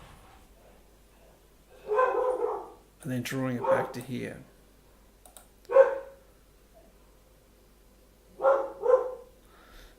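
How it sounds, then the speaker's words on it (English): Dogs bark indoors in a few separate loud bursts, mixed in with a person talking nearby. "Seems the dogs are going to play up."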